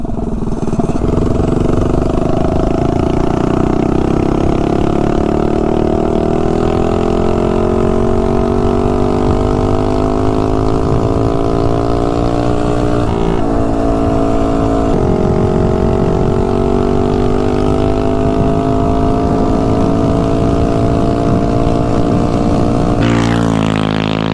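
A Honda CRF minibike engine runs steadily on a CRF 150 carburetor after the carb swap, a loud continuous buzzing drone close by whose pitch rises gradually, alone with no talking.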